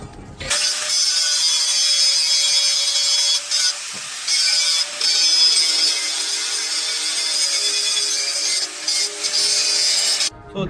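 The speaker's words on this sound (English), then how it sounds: "we need to clean up this surface so we can get a nice weld here" Abrasive power-tool cleaning of a metal surface for a welded heavy-duty rocket stove produces a continuous harsh grinding rasp that persists almost the entire time, with brief dips in loudness and no speech.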